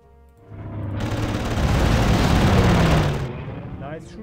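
Gunfire in the World War II strategy game Panzer Corps, a loud rolling burst of shots and booms that swells, holds for a couple of seconds, then cuts off.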